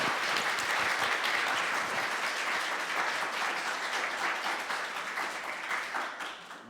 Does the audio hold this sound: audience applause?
yes